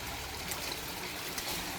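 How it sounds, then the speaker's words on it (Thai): A forest stream at Huai Haeng waterfall in Kanchanaburi's jungle gives a steady, full wash of running water, constant and close with no voices. "จะเป็นลำธารในป่าใหญ่ ครับผม ที่คนแถวนี้เรียกว่าห้วยแห้งกัน"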